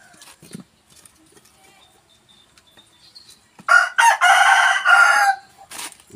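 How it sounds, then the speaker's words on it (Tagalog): Roosters crow in the early morning at a rural home garden, faint distant crowing and clucking at first, then one loud close crow that rises and breaks off near the end. "Kaya daming tumitilaok mga manok."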